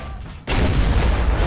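A tank cannon fires in a World of Tanks style battle, one heavy close boom that erupts suddenly after a quiet moment and rumbles on as a broad roar.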